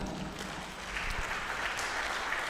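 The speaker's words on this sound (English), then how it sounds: "let us give him a befitting hand clap" An audience at a book launch applauds a speaker, with brisk, sustained clapping from many hands that swells slightly midway and carries on without pause.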